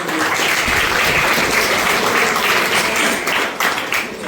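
Classroom applause for a student at a coaching centre in Mirzapur, a steady burst of many hands clapping together for about four seconds, loud and even before tapering slightly.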